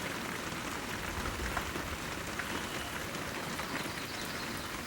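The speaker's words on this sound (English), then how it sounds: "It just drops that heavy rain. It's just falling straight down." Heavy rain pours straight down under gray skies at a clay-soiled gold prospecting site, a steady, close, dense hiss of drops hitting surfaces with no voices.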